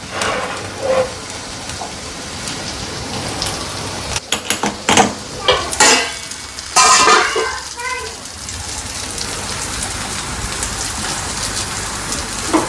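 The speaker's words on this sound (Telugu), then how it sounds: "బయట ఆల్రెడీ వర్షం స్టార్ట్ అయిపోయింది." Steady rain falling outside a home kitchen where a lentil-and-chili dish is being cooked in oil, a constant hiss under the scene, broken midway by a few louder clatters and knocks.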